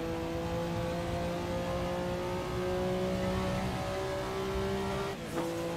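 A Porsche 962C race car at full throttle in the Assetto Corsa racing game: a loud, steady, high engine drone with sustained tonal harmonics, briefly interrupted near the end by a short burst of noise.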